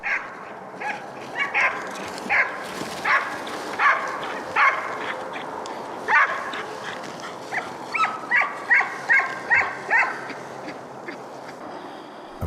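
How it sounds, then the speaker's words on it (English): Hunting dogs bark on fresh scent during a driven hunt in southern Sweden, giving a long series of rhythmic, fairly close barks. The barks grow quicker and more regular toward the end. "The sound of dogs barking on fresh scent adds excitement to the hunt"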